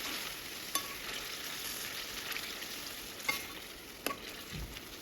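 Ingredients for a green chicken curry sizzle softly in a pan, with a few isolated spoon taps as they are stirred; faint and steady, no voices.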